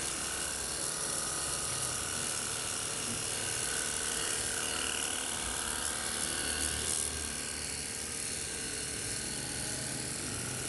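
A Nagawa cordless high-pressure jet cleaner sprays the wall beside an outdoor AC unit by a roadside, producing a steady, loud, hissing motor whine that runs unbroken throughout.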